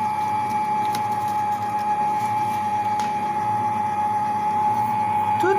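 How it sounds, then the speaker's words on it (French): An electric hand mixer runs steadily at close range, beating yogurt biscuit dough with a constant whirring motor hum and a sustained tone that does not let up. "Tout en laissant tournant le batteur."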